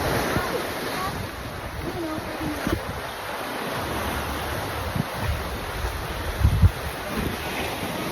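Rough sea waves roll onto a beach in Ilocos Sur, a broad continuous surf roar mixed with heavy wind buffeting the microphone, with a few thumps and faint voices in the background.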